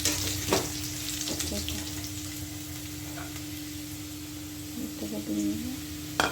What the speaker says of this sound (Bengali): একটু লবণ আর হলুদ দিয়ে ভাজবো।